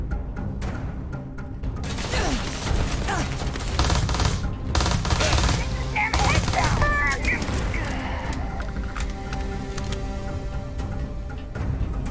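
A legendary gun firing in Starfield, rapid crackling shots and mechanical clicks in dense clusters, loud and near, with someone talking over much of it.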